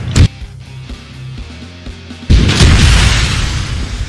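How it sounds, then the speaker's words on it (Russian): A BTR armored vehicle explodes in Arma 3: a short pop and low engine hum lead into a sudden loud, close blast that rolls on into a heavy rumbling decay. "Я его взорвал? Да-да-да, взорвал."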